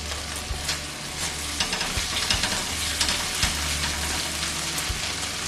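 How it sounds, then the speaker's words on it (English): Bell pepper chicken in tomato sauce and puree fries in a pan with a steady, dense sizzle, close and loud, broken by occasional soft clicks of a utensil stirring. "Fry it for 2 minutes"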